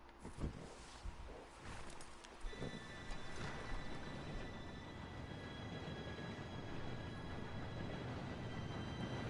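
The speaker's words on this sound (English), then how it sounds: "Train should be here any minute now." A train approaching in the Red Dead Redemption 2 video game, a faint continuous rumble and rattle that builds steadily and holds, with a thin high whine above it and no voices.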